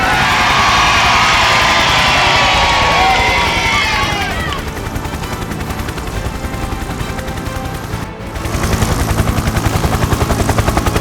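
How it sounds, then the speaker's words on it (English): A helicopter's rotor chops loudly and continuously, its pitch shifting as it passes, with crowd noise and a louder surge of rotor toward the end. "the helicopter gently carried George safely down to the ground"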